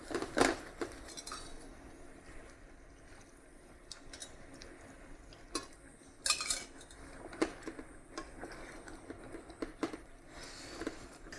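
Risotto stirred in a pot with stock added by ladle, heard as repeated metal clinks and scrapes of spoon and ladle against the pot between softer stirring, close and fairly quiet.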